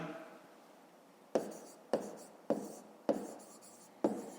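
A pen or chalk writing out a fifth-grade math solution, with five sharp taps and strokes spaced about half a second apart after a quieter opening, close and alone.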